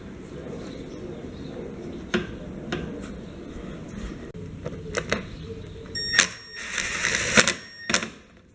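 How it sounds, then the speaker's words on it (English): A lawn mower's air filter housing is refitted, producing scattered close plastic clicks and taps, then a louder cluster of rattling snaps and scrapes toward the end over a low background hum. "Next, we reinstall our air filter housing."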